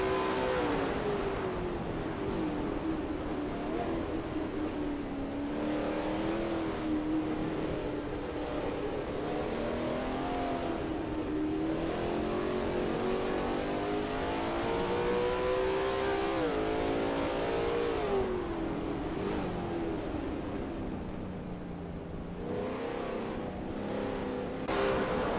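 A Lola T70 MkII Spyder race car in a video game at the Spa circuit, engine droning steadily at high revs for about 25 seconds, pitch rising and falling through gear changes and corners, heard alone without talk.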